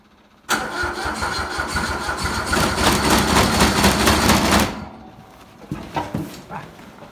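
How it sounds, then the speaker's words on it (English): A stubborn tractor engine on a cold winter day fires up suddenly and runs loud and rough for about four seconds, then cuts out, leaving a few faint knocks and sputters afterward. "Now it's time to get this tractor to start."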